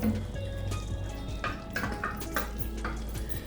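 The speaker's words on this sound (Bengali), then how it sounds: "এবার আমি এই বাটিটার গায়ে থেকে সব মশলাগুলোকে জলের সঙ্গে একটু মিশিয়ে দিচ্ছি।" Spices stuck to a bowl are stirred loose into water while making creamy aloo dum, heard as soft scraping and clinking of a spoon against the bowl, with steady kitchen sizzle and hiss underneath and no talk.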